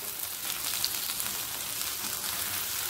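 Bangude mackerel in curry leaf masala fries in a pan with a dense, even sizzle and fine crackle, close and steady with no voices.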